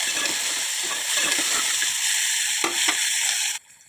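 Onions sizzling and frying with cumin in hot oil, a steady loud hiss with occasional stirring scrapes, ending abruptly near the close.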